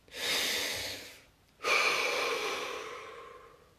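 Two deep breaths, a long breathy inhale followed by a fuller exhale after a short pause, close and alone in a quiet room during a guided relaxation session.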